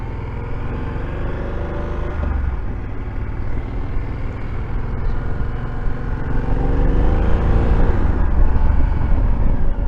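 A Triumph Thunderbird 1700cc cruiser motorcycle rides along smoothly, its engine note rising gradually through the gears with a steady, deep drone that grows slightly louder toward the end, heard close with wind noise.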